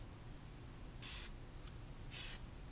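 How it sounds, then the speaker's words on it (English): Two short hissing spritzes from a face mist spray bottle, with a tiny puff between them, close up in an otherwise quiet room. "We're gonna start by spraying our face."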